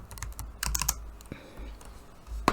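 Close, uneven typing on a computer keyboard, clusters of quick key clicks separated by pauses, ending with a sharper keystroke.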